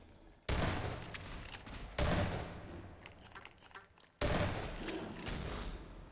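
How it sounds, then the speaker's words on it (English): Loud double-barrel shotgun blasts in Half-Life 2, three heavy shots spaced roughly two seconds apart, each a sharp boom trailing into a long rumbling decay, with faint game ambience between them. "a double barrel shotgun really packs a punch"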